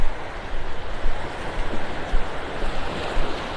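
Steady ocean surf washing on the beach at Pelican Bay in North Naples, Florida, a continuous close rushing wash with gentle swells, heard while an olive snail shell is rinsed.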